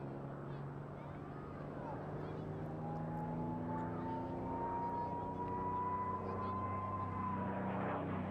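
A Mustang fighter makes a topside pass at an airshow, its engine drone sweeping in a long rising and falling tone, steady and fairly loud, under crowd ambience and commentary.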